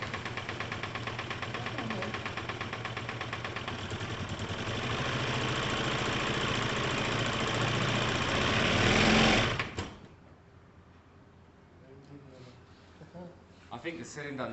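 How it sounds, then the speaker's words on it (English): A Piaggio Typhoon 125 scooter, found dumped, runs with a rapid buzzing engine note that rises as it is revved, then cuts off abruptly, leaving quieter handling noises while a voice talks. "See if it lets us rev it a little bit."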